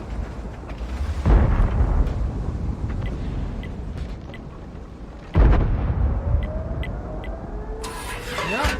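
Two heavy booming blasts from an M40 recoilless gun firing shells, each a sudden loud report fading into rumble, followed near the end by a rising whine.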